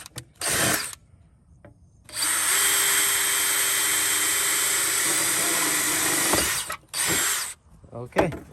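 A power drill bores two holes into a tractor: a short whining burst, then a long, loud, steady drilling run of several seconds, with quiet gaps between.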